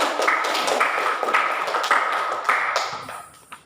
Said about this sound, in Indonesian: kita beri aplaus juga